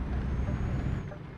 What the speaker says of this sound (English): I accidentally tapped the brakes there a little bit too hard